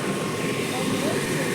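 A farm water pump motor runs in a rural paddy field, a steady droning hum that stays even and fairly close throughout the short stretch.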